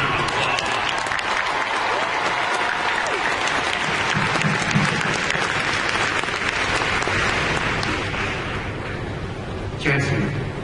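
A large Comic-Con 2013 audience applauds the Supernatural running staff at a panel, with loud, dense clapping and cheering that holds steady for about ten seconds before easing off slightly at the end.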